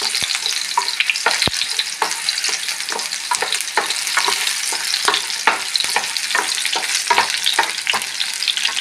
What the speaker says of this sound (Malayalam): അതിൽ കുറച്ച് വെളിച്ചെണ്ണ വീത്തിൻ്റെ അത് നേരിയതായിട്ട് ഫ്രൈ ആവണം